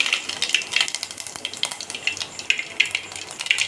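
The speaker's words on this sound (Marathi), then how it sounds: "मी दोन माप तेल टाकलेलं आहे जिरे मोहरी टाकून घ्यायची आपल्याला" Cumin and mustard seeds sizzle and pop in two measures of hot oil, a loud, crackling fry with frequent sharp spattering bursts, close and continuous, no talking.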